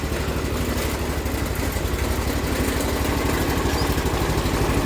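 A restored 1980 John Deere 216 lawn tractor engine runs at a steady, rapid, even putter, loud and close, holding a constant idle-like rhythm throughout.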